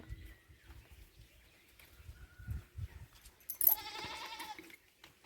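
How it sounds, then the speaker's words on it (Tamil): Young goats with diarrhea on a farm make soft, scattered noises before one gives a clear, wavering bleat close by, lasting about a second amid otherwise quiet surroundings. "ஆட்டுக்குட்டிலாம் பாருங்கள்"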